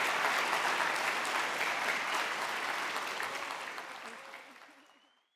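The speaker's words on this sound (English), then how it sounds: "Let's give her and the city of Garden Grove another round of applause." Sustained applause from a large audience at Garden Grove's 2025 State of the City address, steady and dense clapping that gradually thins and fades out over the final second or two.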